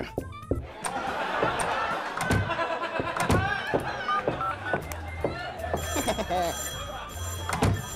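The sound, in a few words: telephone ringing in the video game Neighbours from Hell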